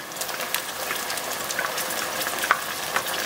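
Tomatoes dropped into a pan of sizzling pepper sauce, a steady hissing fry with light crackles and a soft stir, close and continuous.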